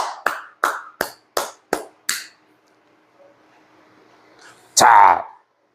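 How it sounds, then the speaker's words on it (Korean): Hand clapping during a Korean billiards lesson, seven crisp evenly spaced claps close by, then quiet before a voice speaks. "자, 박수 쳐주실 분"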